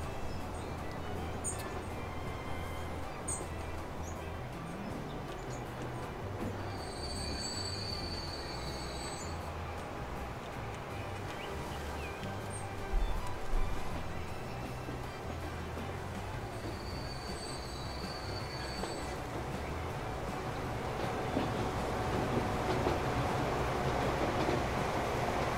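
Train rolling through the rail network in Transport Fever, a steady rumbling run with squealing wheels and faint high whines, continuing alone without any talk for the whole stretch.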